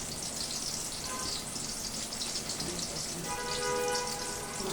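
Taro stolons (lati) cooking in a pan, giving a steady close sizzle and bubbling like light rain that runs unbroken, without any talk.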